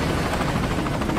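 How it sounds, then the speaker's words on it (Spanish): A helicopter in the video game Metal Gear Solid V: Ground Zeroes gives a loud, steady rotor roar with a dense, continuous whir and rhythmic blade chop, heard alone without speech. "Chao, helicóptero."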